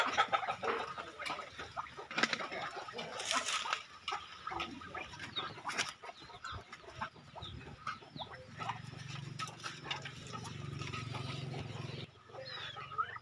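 Ducks being chased down and grabbed outdoors on a farm, giving scattered faint squawks and quacks with bursts of flapping and rustling, then a steadier low murmur near the end.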